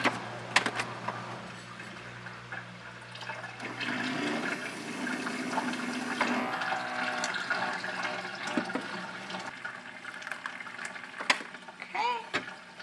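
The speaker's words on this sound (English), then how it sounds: "I'm just gonna add some hot water to the bowl" Hot water runs into a bowl of supplement powder, a sustained splashing pour that builds and then trails off, with faint clinks and small handling noises around it.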